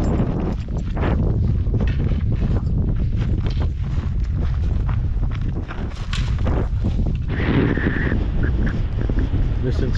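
Strong, steady wind roars across a bare mountain summit and buffets the microphone with loud, continuous gusting for the whole stretch, with faint footsteps beneath it.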